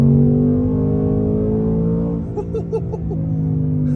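Engine of a 2024 Ford Mustang GT V8 pulling in second gear under throttle, a steady, loud, rising drone heard from inside the cabin, with a brief wobble partway through.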